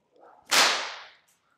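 A single sharp whip crack, loud and close, snapping out once and trailing off quickly into quiet during a helicopter-style whip cracking move.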